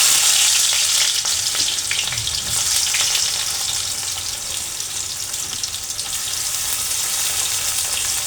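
Two medium chopped onions hit plenty of hot oil in a wok, producing a loud, steady, hissing sizzle that swells at first and then holds constant, with no voices.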